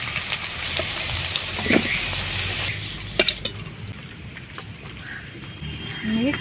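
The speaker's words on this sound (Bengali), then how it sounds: "বৃষ্টি পড়া শুরু হয়ে গেছে ঝিমঝিম খুব জোর বৃষ্টি হচ্ছে না কিন্তু" Light rain falling outdoors as a soft, steady patter with scattered drips, mixed with faint kitchen sizzling and occasional clinks nearby.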